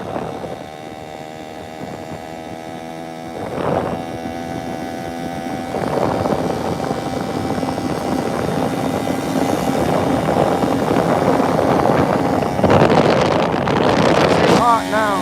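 Small carbureted engine running hot with the throttle held open after a carburetor adjustment, a loud steady drone that builds in pitch and intensity, with wind buffeting and some voice underneath.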